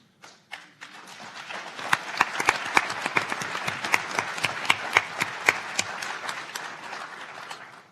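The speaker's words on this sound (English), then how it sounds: "Having gotten some clapping" Audience at a talk on the Mueller investigation and the rule of law breaks into clapping, starting as scattered claps and building to steady applause with sharp individual hand claps standing out over several seconds.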